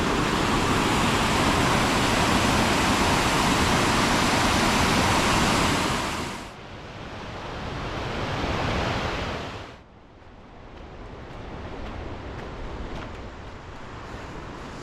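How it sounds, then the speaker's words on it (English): Water rushes down a large concrete spillway at a state park falls, a loud broadband roar heard close up that drops away sharply partway through, then continues as a quieter, more distant wash. "it looks like this over here could be like some type of a spillway"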